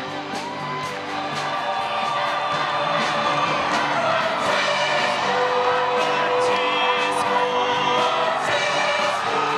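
Thousands of young Catholic pilgrims at an Asian youth festival cheer, whoop and shout loudly as the Pope arrives for Mass in Korea, a dense sustained roar with children's shouts and scattered whistles rising throughout.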